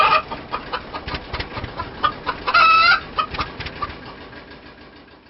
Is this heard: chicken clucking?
yes